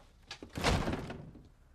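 A single thudding door sound as someone walks out, a brief heavy knock followed by a short rumbling decay, fairly close, with no speech.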